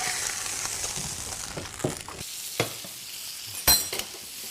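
Steaks fry in olive oil with thyme and garlic, close by. A continuous sizzle runs under occasional utensil scrapes and clinks.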